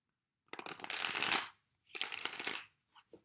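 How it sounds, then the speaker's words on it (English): A deck of tarot cards is shuffled by hand in two bursts of rapid riffling, each lasting about a second, followed by a couple of soft taps as the deck settles; close and quiet, with no talking. "I don't know why I want to shuffle this deck so much right"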